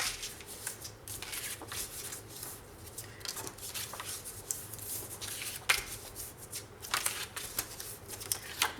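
Paper scrapbooking cards being folded one after another along mountain folds, giving soft, close crinkling and rubbing with small crisp creases and taps, steady and quiet with no talking.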